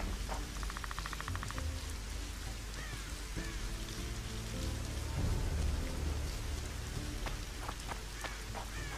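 Steady rain pours down in The Witcher 2: Assassins of Kings on PC, a dense continuous hiss of drops on surfaces filling the whole stretch, with faint low rumbles and scattered game sounds beneath, no talking.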